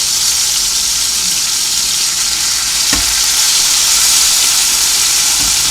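Steak with minced garlic sizzles and fries steadily in a pan, a loud continuous crackling hiss with a brief clink near the middle.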